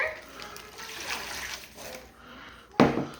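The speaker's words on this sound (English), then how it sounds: "2 cups of water." Two cups of water poured into a plastic Ziploc bag, a soft irregular sloshing and trickling that ends in a sharper, louder splash.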